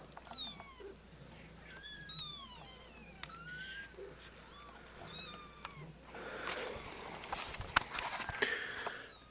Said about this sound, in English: look at the cats.